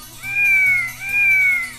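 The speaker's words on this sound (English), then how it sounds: "C for cat" A cat meows twice in a row, two drawn-out rising-and-falling calls that come up loud and close with a short gap between them and no voices over them.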